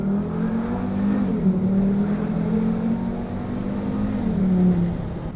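A Volvo V70R fitted with a completely new turbo system accelerates hard, its engine note rising steadily, dipping at a gear change and climbing again, loud and close from inside the car.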